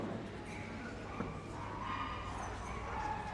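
A dog yelps and barks faintly in the distance while running an agility course at Crufts 2016, high excited cries rising over a steady background hum.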